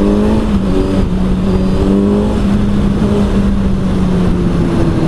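A 2021 Kawasaki Z900 motorcycle fitted with an Arrow exhaust drones loudly from up close while riding, its engine holding a steady low pitch under heavy wind noise.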